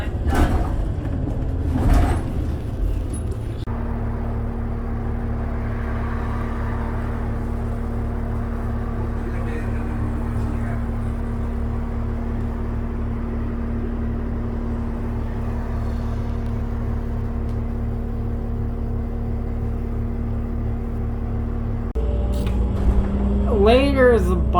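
A 2008 New Flyer D40LF diesel transit bus, Calgary Transit number 8062, rumbles steadily from on board with a constant low drone and a faint whine, bracketed by door and mechanical clunks at the start and end.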